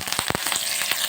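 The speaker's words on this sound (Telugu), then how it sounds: "అదే ప్యాన్లో కొద్దిగా ఆయిల్ వేసేసి ఇందులో పోపు అయితే పెట్టేసుకున్నామంటే చట్నీ రెడీ" Mustard seeds, cumin and dried red chillies tempered in hot oil in a pan, crackling and sizzling with quick pops and spits, close and alone.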